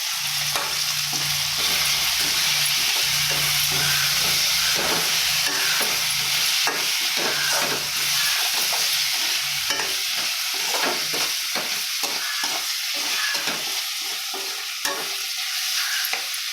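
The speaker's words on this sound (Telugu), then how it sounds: "ఇప్పుడు ఈ చికెన్ ఉప్పు కారం పట్టుకున్నది వేస్తున్నాను." Chicken coated with salt and chili powder frying in a pan over browned onions, with steady close sizzling and repeated scraping stirs throughout, no voices.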